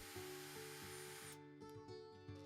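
Power drill pre-drilling a hole in a window frame for a honeycomb blind bracket, a short high whine that cuts off abruptly, under a faint rhythmic musical beat.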